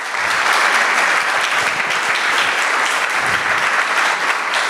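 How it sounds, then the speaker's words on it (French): Audience applause in a hall, dense sustained clapping from a large crowd, loud and even throughout with no voices over it. "Je vais vous demander d'applaudir l'engagement de Madame la Ministre pour tout ce qui est apprentissage."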